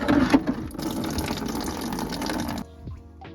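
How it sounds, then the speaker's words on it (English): Coolant drains from the bottom plug of a Subaru Legacy radiator, a steady splashing gush of liquid that cuts off abruptly near the end, leaving a quieter trickle. "Take the little plug out of the bottom of the radiator and let the coolant drain."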